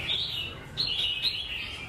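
A caged songbird, likely a red-whiskered bulbul, gives bright, repeated high chirps close to the microphone, with a few sharper notes standing out over a soft background hiss.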